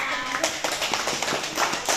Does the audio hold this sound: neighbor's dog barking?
no